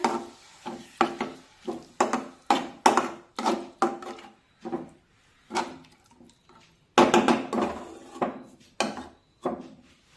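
Rhythmic scraping strokes of a spatula against a wok, stirring a spice mixture with water, about two per second, close and crisp, with short pauses between bursts.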